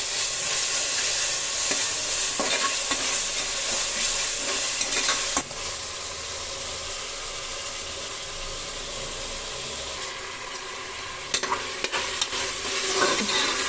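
Tomatoes sautéed with ginger garlic paste and salt in a pan for chicken biryani: a steady, close frying sizzle with a few stirring clicks and scrapes, and no voices.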